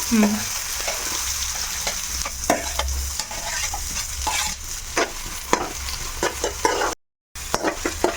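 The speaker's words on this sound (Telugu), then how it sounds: "ఇక ఇప్పుడు ఇక్కడ ఆయిల్ పెట్టుకున్నాను చూడు ఉల్లిపాయలు వేసుకుంటున్నాయి" Chopped onions sizzling in hot oil in a pan, with frequent stirring scrapes and clinks over a steady close frying hiss; no talking.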